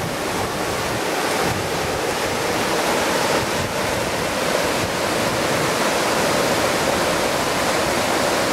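Steady, loud rushing of the Englishman River flowing, a dense continuous wash of water noise with no breaks, heard close and alone without any voices.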